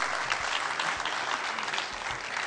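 Warm, dense applause from the audience at a televised Eid special poetry gathering (mushaira) welcoming a poet, a steady wash of many hands clapping with no talking.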